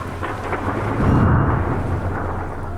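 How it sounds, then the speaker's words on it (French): A thunderstorm with heavy rain pounding steadily throughout, while a deep rumble of thunder swells and rolls in the middle before easing back, with no voices heard. "Moahim dévale les marches sous les assauts de lourdes gouttes que lui envoie l'orage. Le ciel gronde et craque."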